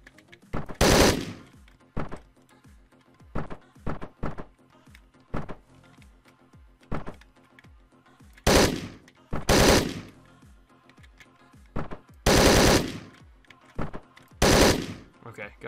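Gunfire in the video game Hotline Miami 2 comes in sharp, loud bursts spread across the stretch, short rapid volleys separated by quieter gaps filled with light game sounds.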